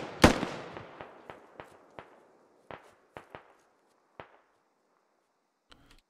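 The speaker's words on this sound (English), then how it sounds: "Let's go check out this firefight that's happening over on the east side." Scattered gunfire from a firefight in the game Squad: one loud crack followed by a dozen fainter single shots at irregular intervals, each with a short echoing tail, heard from a distance with no talking.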